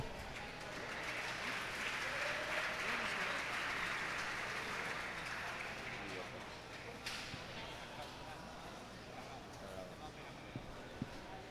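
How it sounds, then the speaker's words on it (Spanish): An audience at the Spanish individual spearfishing championship applauds a competitor, a steady wash of clapping that slowly dies away into crowd murmur and nearby chatter. "Por favor, un aplauso."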